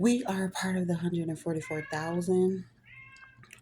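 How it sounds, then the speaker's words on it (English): A pet cat meows loudly outside a room, a drawn-out call heard faintly at the end, behind close speech that fills most of the moment. "if you hear my cat in the background"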